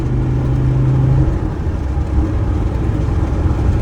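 A Mercedes Sprinter 316 W906 van with a swapped-in 2.7 OM647 diesel cruises in fourth gear around 2800 rpm at 100 km/h, heard from inside as a loud, steady engine drone over road rumble.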